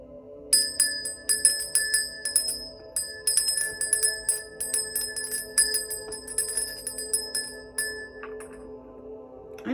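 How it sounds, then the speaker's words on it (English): A small bell rung repeatedly to cleanse a space, bright sustained ringing tones with rapid tinkling strikes in bursts over a low steady hum, close and fairly clear, no talking. "I'm going to go ahead and cleanse the space by ringing the bell."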